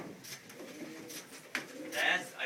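Long-distance racing pigeons cooing softly in a loft, several low throaty coos rising and falling quietly with faint background rustling.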